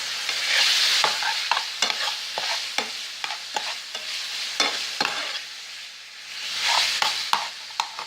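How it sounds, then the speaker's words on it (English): A spoon stirs garlic sea salt into spaghetti with chorizo and onions, repeated scraping and knocking strokes in a loose rhythm over a soft frying sizzle, close and clear. "make sure you stir it up"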